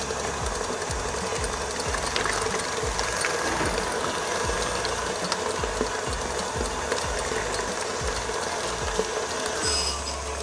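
An electric mixer beats butter, sugar and eggs for a chocolate cheesecake brownie batter, a steady close mechanical whir with rhythmic ticking and rattling that runs continuously and alone, no talking.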